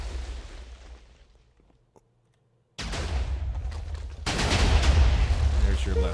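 A mega cannon in Minecraft firing shots, heard as a fading rumble, a moment of near silence, then sudden loud bursts of crackling explosive noise that swell and continue, close and dense.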